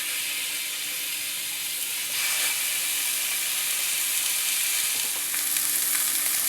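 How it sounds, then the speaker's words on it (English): Filet steaks sizzling on a grill, a constant close hiss and crackle that grows slightly louder after they are laid down, with no talk. "now they're ready to go on the grill"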